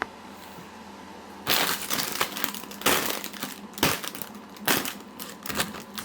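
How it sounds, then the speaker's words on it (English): A tough plastic bag is torn and wrestled open in a kitchen, giving several loud bursts of crinkling and crackling plastic separated by short pauses. "probably the toughest plastic bag I've ever bought."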